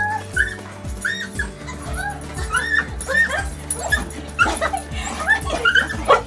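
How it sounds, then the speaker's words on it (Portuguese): A small dog whimpers and yips repeatedly in short, high-pitched cries, fairly close, with faint background noise. "Essa cachorrinha procurando por sua dona"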